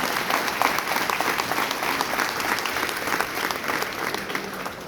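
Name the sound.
applause from an audience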